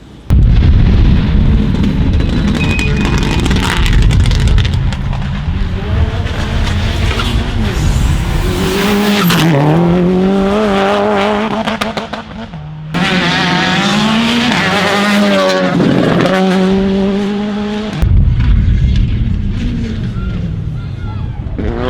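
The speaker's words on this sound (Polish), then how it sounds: "Dzisiaj ten samochód bierze udział w rajdzie w samochodzie w charakterze samochodu zero." A rally car running as the zero car at a tarmac rally roars past at speed, engine screaming up and down through the gears with tyre noise, loud and close, briefly cutting out midway.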